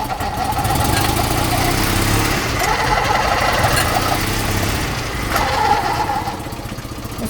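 A small Invacar three-wheeler engine with a slack drive belt revs up, a steady buzzing drone that rises and falls as it accelerates, fairly loud and continuous with faint voices in the background.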